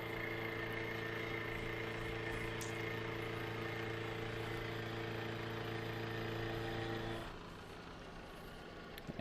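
Manual milling machine taking a very light finishing pass on a block held in a vise, a steady humming drone with tonal whine that runs for most of the stretch, then drops off near the end as the cut stops.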